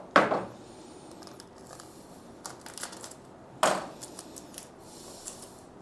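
A small piece of ordinary tape being pulled and torn from a roll during a computer case hard drive install, two sharp ripping bursts a few seconds apart with quieter handling noises in between.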